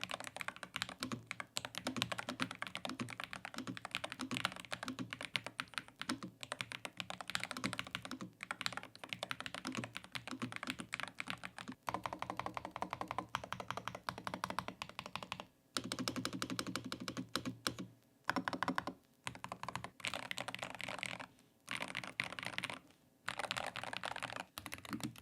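Dense, rapid typing on an Asus ROG Falchion HFX mechanical keyboard with magnetic, pre-lubed switches and stabilizers, a continuous close-up stream of key clacks with brief pauses, quiet and unaccompanied by speech.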